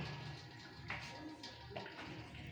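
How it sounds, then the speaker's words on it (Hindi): Cooked white rice with cumin being poured through a kitchen strainer, water running and splashing steadily for a few seconds with brief louder gushes. "अब हम इनको छान लेंगे अपने छानने में।"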